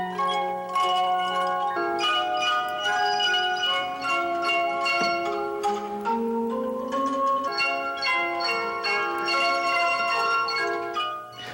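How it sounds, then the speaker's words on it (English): Rare turn-of-the-century Shaker chimes rung at a Christmas show, a series of clear struck tones in a slow melodic sequence, each note ringing on and overlapping the next, bright and sustained. "This year's Christmas show debuted rare turn-of-the-century shaker chimes donated by Purdue alum Howard Taylor of Indianapolis."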